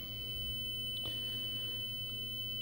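A 4800 Hz tone from a timer circuit, made by toggling a fast interrupt line in a homebuilt retro computer, holding as a steady continuous whine over low hum for the whole stretch, with one faint click near the middle.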